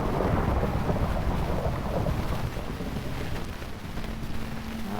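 Rain and rumbling thunder from a modded SurvivalCraft game make a dense, continuous roar. The rain hiss stays steady and heavy while a low rumble rolls underneath, and no voices come through.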